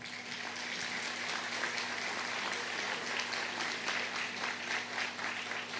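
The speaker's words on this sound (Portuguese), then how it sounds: "Uma salva de palmas." Dense, even applause from an audience at a church anniversary celebration, sustained and fairly distant, a continuous wash of many hands without pauses, a faint steady hum running underneath.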